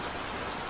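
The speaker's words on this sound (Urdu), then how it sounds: "بارش اور تیز ہو گئی" Heavy rain pours steadily on a rainy night near a graveyard, a dense, even wash of hiss with no pauses, close and enveloping, no voices.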